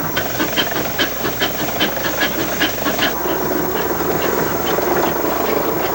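A 1919 Nichols and Shepard steam traction engine runs with rhythmic, loud chuffing exhaust puffs from its stack that soften into a continuous steady hiss and rumble.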